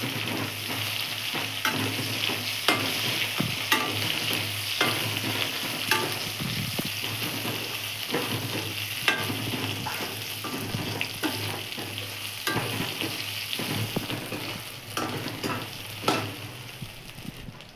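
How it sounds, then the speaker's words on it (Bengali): Eggplant and prawns sizzling in a pan, stirred steadily with repeated scraping strokes over a continuous frying hiss. "এবার বেগুন দিয়ে ভালো করে নাড়াতে হবে।"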